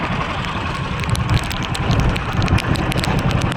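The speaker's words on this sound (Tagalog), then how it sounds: "Lakas ng ulan." Steady, dense rain roar with a broad hiss and low rumble throughout, loud and close, no voices.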